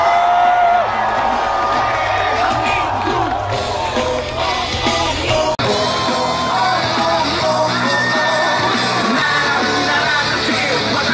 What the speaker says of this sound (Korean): 이 아름다운 모습에 큰 함성과 박수 부탁드립니다.